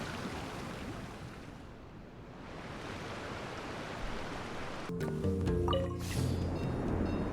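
A steady, broad rush of falling water from a waterfall in a video game roars continuously, with tonal game sounds and effects entering over it toward the end.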